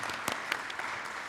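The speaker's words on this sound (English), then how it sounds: "Everyone cheer Matilda" Short burst of audience applause with scattered cheers at a live tabletop Dungeons & Dragons speed-run event at PAX Australia 2019, dense steady clapping with a few louder individual claps and voices.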